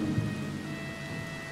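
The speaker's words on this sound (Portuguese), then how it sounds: "Sai da chuva e vai pegar um resfriado." Rain in the video game Red Dead Redemption 2, a steady broadband hiss with a low rumble underneath, loud and continuous with no speech over it.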